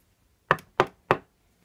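Three sharp knocks on a door, evenly spaced about a third of a second apart, close and distinct against a quiet background, in an animated cartoon scene.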